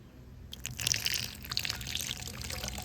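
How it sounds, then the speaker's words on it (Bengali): Water poured into a homemade 7up soda mixture that fizzes and foams: after a brief quiet moment, a splashing pour with bubbly crackling, soft and close. "এবার আমি এখানে একটা কাঁপা দিয়ে এবারে জলটা দিয়ে দেবো"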